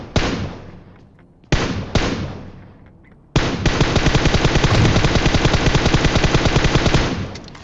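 PUBG Mobile gunfire: two sharp single shots with long decaying tails, then a loud, sustained rapid-fire automatic burst lasting about four seconds before cutting off.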